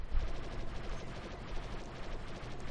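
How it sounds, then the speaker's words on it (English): Rapid blaster fire from an A-wing starfighter in Star Wars Battlefront 2: a continuous stream of quick, crackling shots blended with engine roar, moderately loud and unbroken throughout. "rapid firing blasters"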